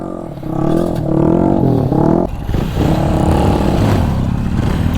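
A motorcycle is revved hard during a wheelie attempt: a loud, close engine note climbs in pitch, cuts off sharply, then settles into a rough, clattering idle-to-throttle rumble.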